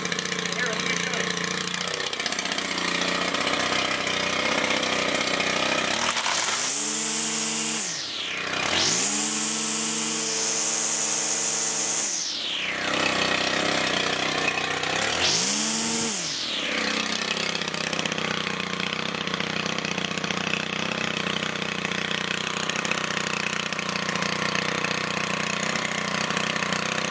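A Stihl FS 130R string trimmer engine runs, idling with a deep, mellow drone, then revving up sharply three times with a rising and falling whine before settling back to idle.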